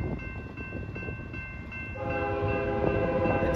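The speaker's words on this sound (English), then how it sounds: "looks like we got an incoming BNSF freight train coming in" An empty BNSF container freight train rumbles past with a loud horn sounding partway through, its steady roar building as it draws closer.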